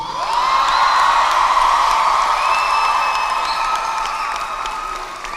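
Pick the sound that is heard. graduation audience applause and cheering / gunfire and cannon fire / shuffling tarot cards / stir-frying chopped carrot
graduation audience applause and cheering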